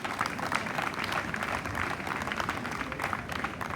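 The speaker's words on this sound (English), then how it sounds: "I think he deserves another round of applause" Audience applause at a GIMPA graduation ceremony, steady dense clapping from a large crowd filling the whole stretch at moderate level, without pauses or speech.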